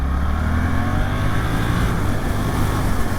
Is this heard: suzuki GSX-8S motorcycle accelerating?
yes